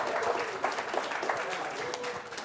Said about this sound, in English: Why do I feel like teachers only clapped and no students?